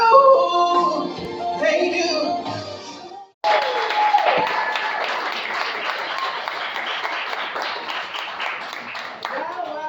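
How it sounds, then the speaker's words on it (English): Singing ends abruptly, then a large audience bursts into sustained, enthusiastic applause with scattered cheers. "give her a round of applause"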